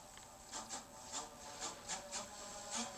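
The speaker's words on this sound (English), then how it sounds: "So I'm going to use the Sorby 1/2 inch bowl gouge." A Sorby half-inch bowl gouge cuts an out-of-round sapele bowl blank on a wood lathe, giving faint, regularly spaced rasping scrapes about twice a second over a low, steady hum.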